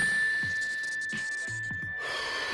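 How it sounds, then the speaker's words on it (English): A mindfulness bell rings with a steady sustained tone that hangs throughout, soft and even, with faint breathing underneath. "When you hear the bell, take a deep breath."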